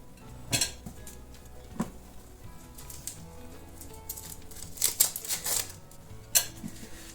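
Ripe bananas are mashed with a fork on a plate, giving irregular metallic clinks and taps of the tines against the dish, some sharp and close, over a quiet background.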